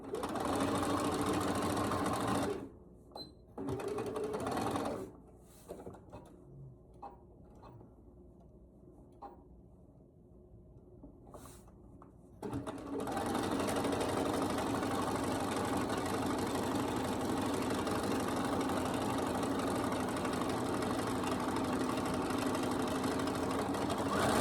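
A sewing machine stitches nine patch quilt squares in long steady runs, with a quieter pause in the middle punctuated by short bursts and clicks before the stitching resumes.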